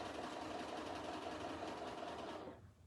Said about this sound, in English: Also, I turned off any locking stitch on the sewing machine so that it wouldn't make that lock.